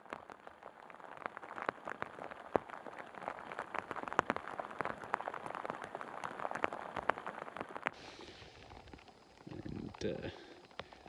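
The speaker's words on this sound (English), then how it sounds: "the rain is starting yet again" Rain patters steadily on a nearby surface with scattered sharper drops, then softens near the end as a faint rustle takes over.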